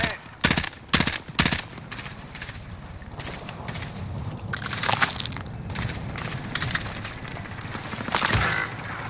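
Gunfire in a shooter video game: a few sharp, loud shots up front, then a rapid burst and scattered cracks amid busy game noise and faint voices.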